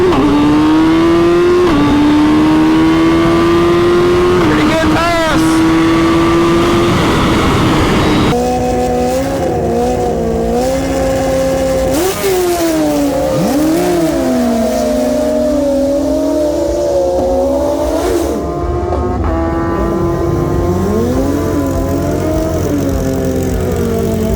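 A 2022 Suzuki Hayabusa motorcycle launches down a quarter-mile dragstrip, its engine screaming up through the revs to the limiter, then shifting gears with sharp pitch drops and climbing again, loud and close throughout.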